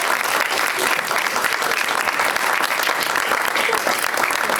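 An audience at a 2020 college theatre festival applauds after a play, with dense, steady clapping filling the whole moment and no break.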